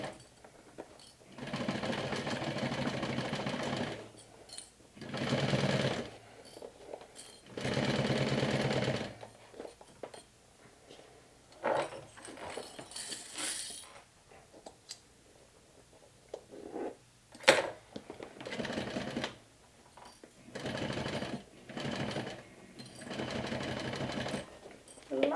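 Sewing machine stitching a small backpack with rainbow thread, running in repeated bursts of steady whirring, several seconds each with pauses between, heard close and fairly quiet, with brief talk in the gaps.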